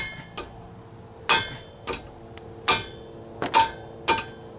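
Sharp metallic hammer blows strike a front brake part on a 2002–2006 Honda CR-V, six or so distinct hits spaced irregularly, close and ringing, with no talk.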